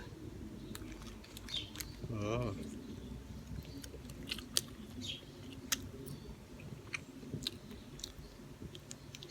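Someone chewing a 7-Eleven burrito close to the mic, with soft wet bites and small clicks scattered over about nine seconds against low background noise.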